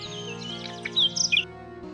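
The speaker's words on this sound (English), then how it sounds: "The nightingale is renowned for its melodious, complex songs" A nightingale sings a brief burst of bright, high chirps and trills over soft sustained background music.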